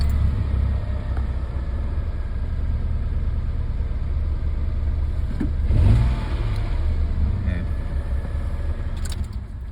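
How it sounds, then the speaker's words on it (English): A car engine cranks and catches with a brief rev, then settles into a steady idle, close by and moderately loud, after its immobilizer box is reconnected to the ECU; a voice speaks faintly in the background. "Now I restore the connectivity between the ECU and Immo box"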